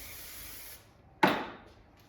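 A single short hiss of hairspray bursts out close by, then fades over about a second in a quiet room.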